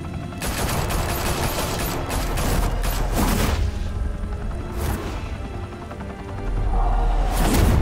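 A loud, close shootout in Batman: The Telltale Series, with rapid automatic gunfire and sharp shots crashing in dense bursts and brief lulls, ending in another heavy volley.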